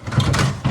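A parts drawer in a garage workshop slides open with a short scraping rattle and a couple of knocks, close by and fairly loud, with no voice.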